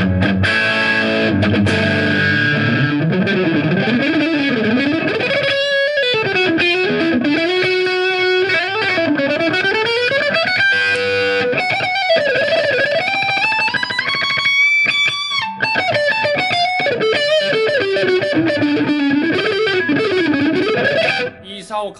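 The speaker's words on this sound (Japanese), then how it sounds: "あ、歪みのパワー感めちゃくちゃいいっすね" Electric guitar from T's Guitars played through heavy distortion, loud and continuous with sustained chords and melodic runs that bend and slide, close and filling the whole passage without pause.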